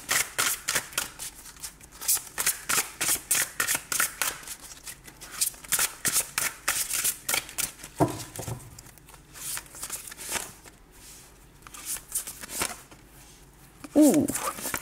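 Tarot cards are shuffled for a new draw in a rapid, rhythmic series of crisp riffling flutters, close and fairly quiet, easing into sparser handling and a few soft taps near the end.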